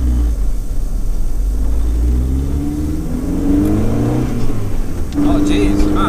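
A 38-year-old Mk1 Ford Fiesta Supersport accelerates hard, its mid-pitched engine note climbing steadily as revs build, loud and close from inside the car with a brief shift near the end.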